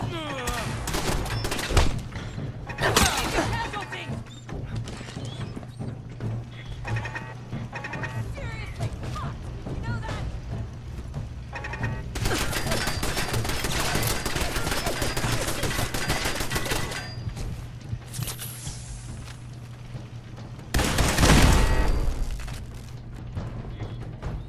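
Video game gunfire coming up through a floor in a modded game, bursts of shots scattered across the stretch with a heavy crash near the end, heard over steady background noise and game sounds.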